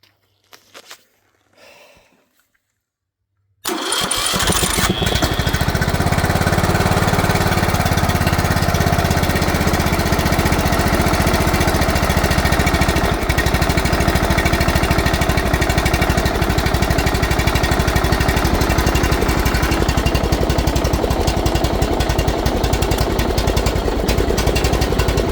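A John Deere L100 lawn tractor engine, left sitting for three years with water inside, catches after a few quiet clicks and handling sounds, then runs loud and steady at close range for the rest of the clip.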